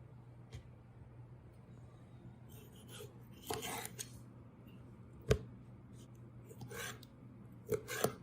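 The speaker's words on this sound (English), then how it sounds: "Now I'm going to cut up the tomato for the Pico de Gallo." A knife cutting a cored tomato on a board for pico de gallo, a few soft, sparse chops and slices with a sharp knock, faint over a low steady hum.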